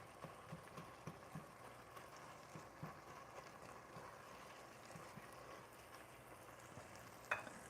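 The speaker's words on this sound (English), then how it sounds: "I hear it sizzling." Meat sizzles quietly in a frying pan, a soft continuous crackle with scattered pops and a brief clatter near the end.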